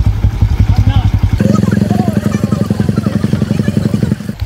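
A motorcycle engine revs hard and loud with fast pulsing firing beats while it pushes through floodwater on a village road after heavy rain, and someone shouts over it.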